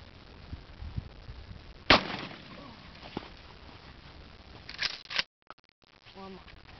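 A single sharp, loud shotgun blast from a Mossberg 500 fired outdoors, followed by mechanical clacks like the pump being worked, with people talking around it.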